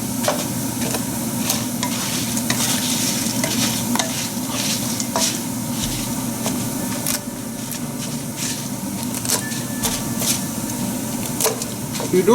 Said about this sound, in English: So we'll fry these till they're lightly golden, and we'll break it up a little bit so that these are in smaller chunks.